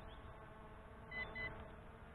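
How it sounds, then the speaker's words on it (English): Two short, high electronic beeps in quick succession from an MJX Bugs 5W 4K drone controller when switching to a faster speed, faint over a low steady background hum. "Two beeps."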